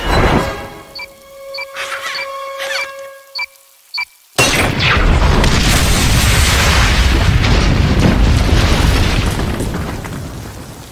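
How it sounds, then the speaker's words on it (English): In a Superman cartoon fight with Metallo, a sudden loud explosion bursts in after a stretch of quiet tones and clicks, followed by a long, roaring rumble that slowly fades. "What was that explosion?"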